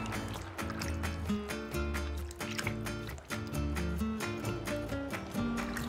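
Raw chicken pieces swished and rinsed by hand in a bowl of water with vinegar, a continuous close sloshing and splashing with a steady rhythm and no pauses.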